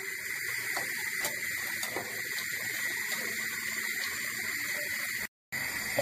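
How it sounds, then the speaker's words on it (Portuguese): Bananas deep-frying in hot oil, three at a time: a steady, close broadband hiss and bubbling crackle runs throughout, with a few sharper pops and a brief dropout near the end. "Pode fritar três em três"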